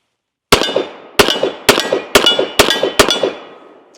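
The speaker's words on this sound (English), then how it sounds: "let's go ahead and take our first few shots with the new Nighthawk Colt M45" Nighthawk Custom Colt M45A1 pistol firing its first shots: six loud, sharp reports with ringing tails, the first gap longer and the rest in a quick, steady rhythm, then a fading echo.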